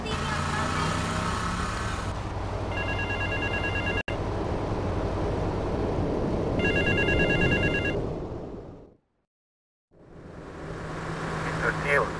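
A telephone ringing in the GTA Vice City video game, two bursts of electronic trilling rings over street traffic and air-conditioning hum, followed by a brief silent gap before the ambience returns.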